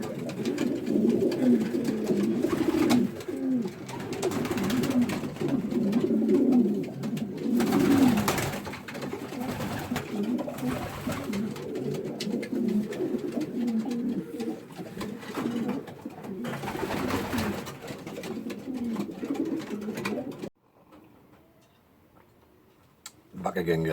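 Pigeons cooing inside an allotment shed, a dense chorus of low, throaty warbling coos close by with occasional ticking and rustling, continuing for about twenty seconds before dropping to near quiet.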